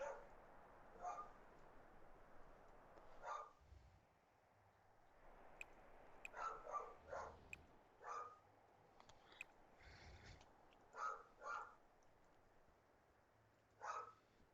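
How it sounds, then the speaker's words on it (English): Several dogs bark indoors in scattered bursts, some single yips and some quick doubled barks, fairly faint against a quiet room with no talking. "Yes, my dogs are barking."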